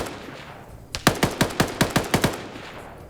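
A rapid burst of about ten evenly spaced gunshots from a sniper team's position in an Arma PvP match, sharp and loud after a brief quiet lead-in.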